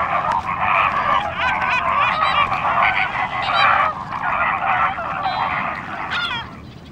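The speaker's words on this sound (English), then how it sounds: "some birds, like flamingos, seem to prefer scrabbling to feeding." A flock of flamingos calls continuously in the Greek wild, a dense, loud chorus of honking, goose-like cries close by.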